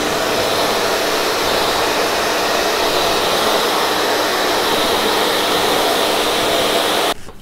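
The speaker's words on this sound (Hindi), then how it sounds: "इसके बाद प्रॉपरली अच्छे से ड्राई करना है बालों को, तो इसके बाद हम करेंगे ड्रायर।" A hair dryer blows hot air while drying hair after colouring, a loud, steady whooshing roar close by that holds evenly and then cuts off abruptly at the end.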